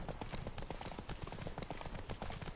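Roach the horse trotting in The Witcher 3, rapid rhythmic clip-clop hoofbeats at a steady pace, faint and continuous, with no voices over them.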